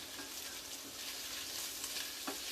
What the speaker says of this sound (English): you might be hearing that sizzling of the pork belly